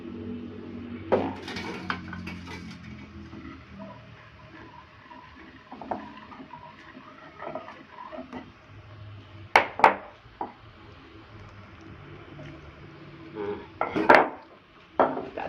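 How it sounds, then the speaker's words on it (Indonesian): Pempek dough is worked with hot water in a bowl, with irregular clinks and scrapes of a utensil against the bowl, a few sharper knocks, and faint room noise between the strokes. "Kita aduk lagi sampai rata"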